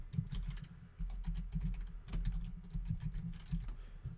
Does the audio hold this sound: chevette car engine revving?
no